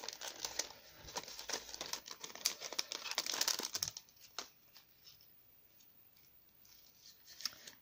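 Paper crinkles and rustles up close as a small gift is wrapped, busy crackling and snipping-like ticks for a few seconds, then sparser faint taps and rustles, no talk.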